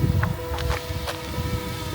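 Strong outdoor wind buffets the microphone during a drone flight, a rough, gusting rumble with a few brief whooshing bursts over a couple of seconds.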